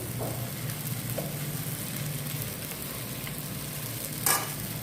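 Puti fish sizzle steadily in a pan with salt, turmeric, chili powder and cumin, a dense continuous frying hiss with a brief clatter of stirring near the end.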